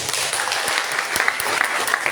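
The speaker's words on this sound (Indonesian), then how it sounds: "tepuk tangan" Seminar audience in a hall breaks into a short burst of clapping, steady and moderately loud for a couple of seconds.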